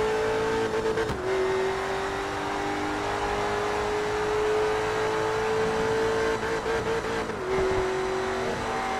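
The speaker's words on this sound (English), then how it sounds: "And the Koenigsegg coming through." A Koenigsegg race car roars past in Forza Motorsport 3, its engine holding a loud, steady high drone with brief dips at gear changes, over the hum of other racing cars.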